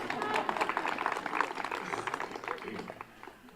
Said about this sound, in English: How often does Maya get a round of applause in this world?